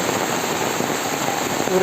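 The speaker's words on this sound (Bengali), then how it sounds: "প্রচণ্ড বৃষ্টি" Heavy rain pouring down in a village, a loud, dense, continuous hiss of drops with no break, close and steady throughout.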